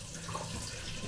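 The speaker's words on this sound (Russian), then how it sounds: "Ну все, водички налил," Water pouring from a tap into a large cooking pot for Russian fish soup (ukha), a steady, close, moderately loud rush of filling liquid heard alone.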